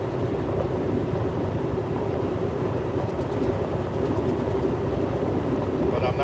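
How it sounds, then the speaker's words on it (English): A tractor-trailer truck running without any trailers gives a steady low engine drone and road rumble from inside the cab, constant and moderately loud throughout. "Yeah, I've got the tractor trailer truck, but no trailers."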